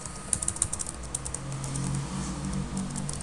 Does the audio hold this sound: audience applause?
no